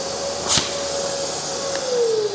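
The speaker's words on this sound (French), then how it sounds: "on va tester l'aspiration" Parkside spray extraction carpet cleaner running its suction, a steady close whine and hiss with a brief louder burst near the start and a slight pitch drop toward the end.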